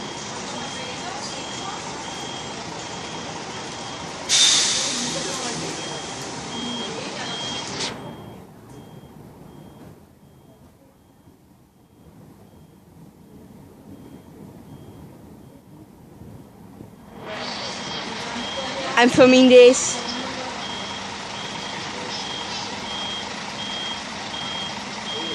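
A bus backs up and departs, its reversing beeper sounding in a steady repeating pattern under engine rumble and wind, pausing midway before the loud beeping returns; a person talks briefly.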